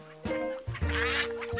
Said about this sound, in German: dass die Enten überall um ihn herum schwammen